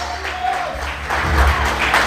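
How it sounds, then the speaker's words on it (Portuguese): A church congregation applauds during a worship service, a brief burst of clapping swelling toward the end beneath a preacher's voice. "Aplauda ao Senhor mais forte."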